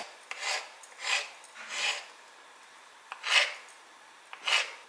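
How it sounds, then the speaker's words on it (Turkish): Five soft rasping scrapes of a knife chopping avocado against a cutting board, spaced unevenly in a quiet room, close by. "Biraz avokado doğrayalım."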